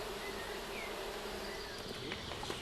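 Honeybees from a brood box, shaken onto a plastic sheet, make a dense, steady buzzing swarm drone that fills the whole moment at close range, with no voices.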